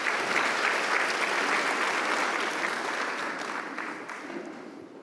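A big audience at a vitamins and minerals conference breaks into dense, continuous applause that holds steady and then slowly fades toward the end, with no voices standing out.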